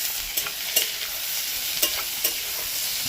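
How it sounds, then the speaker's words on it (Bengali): Onions frying in oil in a pan, browning while being stirred, give a steady close hiss broken by several sharp scraping strokes of the spatula at irregular intervals. "পেঁয়াজটাকে একটু লালচে করে ভাজতে হবে"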